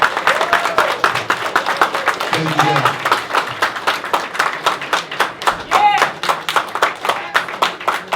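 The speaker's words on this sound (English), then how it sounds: "can we stand up, give Mr. Booker T a round of applause?" Audience applause for Booker T at a live event, a dense steady clapping that runs throughout at close range, with a voice speaking over it.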